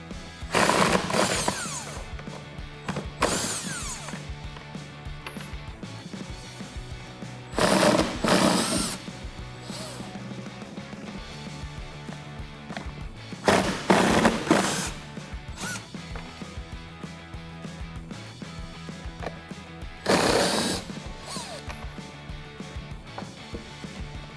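A ratchet with an 8mm socket removes the airbox bolts on a Jeep Wrangler JL, with several loud bursts of rapid clicking separated by quieter stretches of handling noise.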